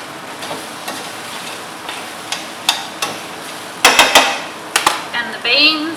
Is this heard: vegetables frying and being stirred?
yes